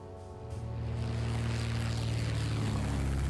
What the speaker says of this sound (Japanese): 忘れないうちに飛行機を着陸させちゃおう